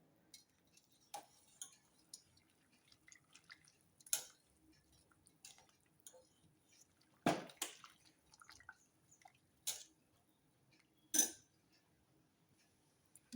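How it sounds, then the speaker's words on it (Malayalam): Jackfruit pieces stirred in liquid: faint, sporadic clinks and soft watery sloshes from a spoon against the vessel, quiet and close, with gaps of near silence between strokes. "നമുക്കൊന്ന് ഇളക്കി കൊടുക്കാം ഇത് മുകളിൽ വരത്തക്ക രീതിയിൽ"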